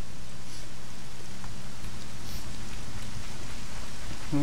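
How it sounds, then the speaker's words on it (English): Steady rain hisses without a break in Legend of Zelda: Ocarina of Time, an even wash of falling drops at a moderate level. "Oh, it's raining."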